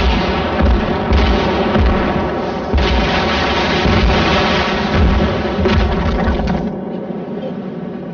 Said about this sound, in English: Select the artillery barrage and click on the designated firing area.